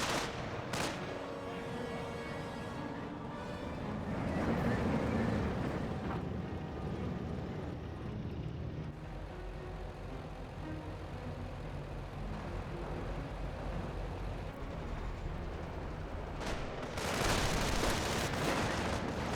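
Battlefield gunfire and artillery from the WWII strategy game Company of Heroes, including an M180 gun hitting Panther tanks, roll on as a dense, steady barrage of shots and blasts with louder bursts near the start and end.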